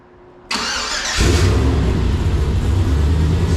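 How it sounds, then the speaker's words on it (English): An LS-swapped Jeep LJ engine fitted with a Holley Terminator cranks briefly on the starter, catches on the first try, and settles into a loud, steady idle close by. "Starts up first try every time."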